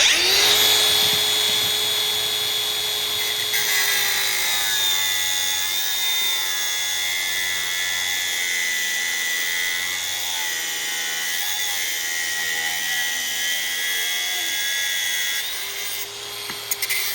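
A power drill bores a 2.5 mm hole during workshop prep on a Claydon hoe and drill, its motor holding a loud, steady high whine for about fifteen seconds with a spin-up at the start and a spin-down at the end.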